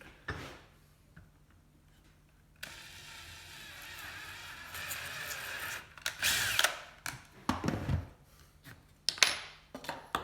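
A drill whirs in short bursts, with a longer steady run in the middle, surrounded by clicks and knocks of handling; close by, no voices.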